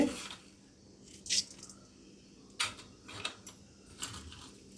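Mustard seeds spluttering in a little hot oil as a tempering for a wedding-style tomato pachadi, heard as a few scattered sharp pops and crackles over a quiet, faint background.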